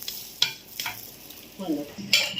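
Karam rotti fries in oil in a pan over a low flame, giving faint sizzling with a few scraping stir and turning sounds, quiet and close.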